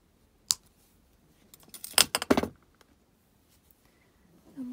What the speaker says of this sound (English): So I'm going to cut it off